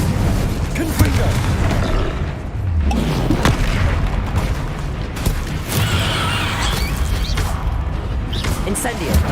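Magic spell blasts in the Hogwarts Legacy video game, booming and whooshing explosions layered over a dense, loud battle din with clanks and rumble throughout.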